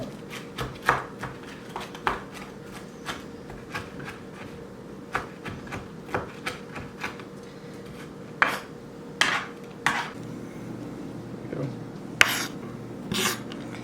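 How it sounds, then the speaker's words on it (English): A knife finely chopping crispy pieces for a cheese ball on a board, sounding as a run of sharp, irregular close taps and thuds with brief pauses between bursts, with no talking. "we're going to make all of them come a little bit closer together and do a nice little fine chop on them"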